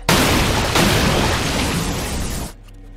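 A water-filled body bursts in an anime, a loud close explosive splash that roars and spreads for about two and a half seconds, then cuts off to near quiet.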